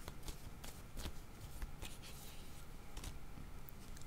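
Tarot cards are shuffled and handled up close, with quiet riffles, flicks and soft taps that come in irregular bursts, all alone without talk.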